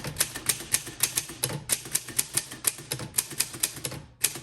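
Rapid, steady typing on a Voss ST24 vintage typewriter, crisp key strikes close and loud in an even rhythm with a brief pause near the end, no voices.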